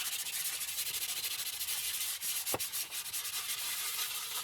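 Steady swishing rub of a hand working polish in swirls over a metal motorcycle topbox under restoration, a continuous close scrubbing texture with one brief sharper knock midway.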